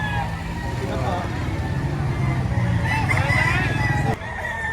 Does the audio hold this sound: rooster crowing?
yes